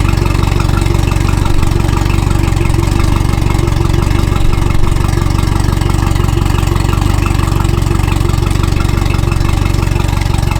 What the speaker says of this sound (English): All right, so I'm gonna run the motor for like 10 minutes,